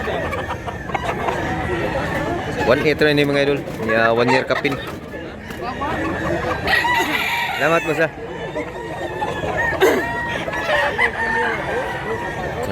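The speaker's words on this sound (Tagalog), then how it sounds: "Manok." Roosters and chickens at a poultry market in Mantalungon, Cebu crow and cluck repeatedly, several loud crows rising over steady clucking, with people conversing nearby about prices.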